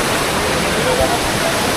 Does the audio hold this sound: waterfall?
yes